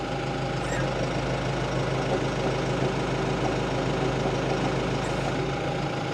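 A Kubota mower idles steadily nearby with a low, even engine drone while its deck is lowered; no distinct hydraulic or mechanical clunk stands out above the running engine.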